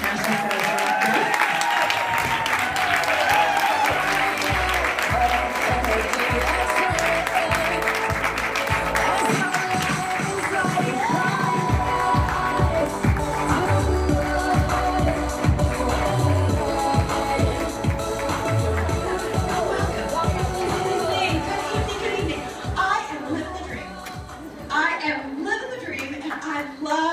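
A large audience applauds and cheers at a business event, with dense continuous clapping and rhythmic beats throughout, while loud upbeat music plays underneath.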